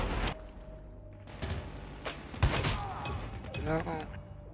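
An HS0405 shotgun fires in COD Mobile, a handful of sharp booming blasts spaced irregularly among game noises, fairly quiet overall, with a player talking in between.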